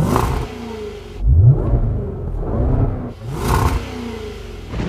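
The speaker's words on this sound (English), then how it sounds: "This car comes with an upgraded sports exhaust" A 550 hp Range Rover Velar SVR with an upgraded sports exhaust revs hard nearby. There are a few loud rising and falling engine sweeps with a deep exhaust growl and no talking.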